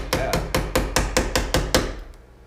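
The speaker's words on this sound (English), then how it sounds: "just take your putty knife, get in behind it, and tap" A putty knife is tapped in behind the trim on a 1990 Ford F350 crew cab to pry it off: eight sharp, evenly spaced metallic knocks, close and loud, followed by a short quiet tail.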